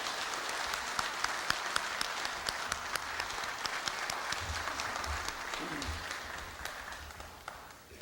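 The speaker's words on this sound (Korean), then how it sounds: "큰 박수로 염재호 총장님을 맞이해 주십시오." Sustained audience applause fills a university hall at Korea University's 110th anniversary ceremony, welcoming the university president to the stage, with dense steady clapping throughout that eases toward the end.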